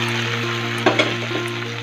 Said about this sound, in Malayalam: ഇനി നമുക്ക് ഈ കടായിലേക്ക് ചക്കക്കുരു ചക്ക വേവിച്ചതും ഇടാം.